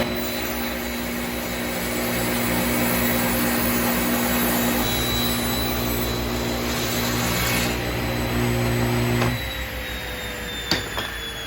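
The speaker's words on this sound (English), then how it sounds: "After gluing up blanks with alternating grain direction, I cut them square on the table saw." Table saw squaring up glued-up wood blanks with alternating grain, a steady loud motor whine with strong tonal hum running for about nine seconds before spinning down, then a faint knock near the end.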